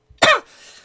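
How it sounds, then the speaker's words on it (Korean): One sharp, loud cough from a man still recovering from COVID who has mild asthma. It is close to the microphone and followed by a softer, breathy tail. "아직 제가 이제 코로나가 이제 완치가 되지 않았기에 가끔마다 이제 기침을 해가지고"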